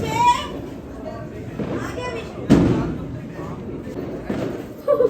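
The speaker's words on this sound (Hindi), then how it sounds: "ये ना पतीले वाला पटाखा है और ये 3 बारी पतीला बार बार जाके हमारी छत पे आ रहा है" During Diwali celebrations a firecracker set under a cooking pot goes off with one loud, sharp bang midway, amid children's chatter and shouting before and after.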